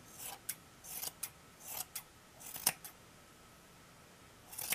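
Scissors snip through the yarn of a large pom-pom, a series of short, sharp cuts with irregular spacing, close and fairly quiet, followed by a pause and a final cluster of snips.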